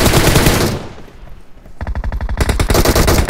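Loud automatic gunfire from a player's weapon in a video game, rapid bursts of shots at close range, a brief lull, then sustained rattling fire.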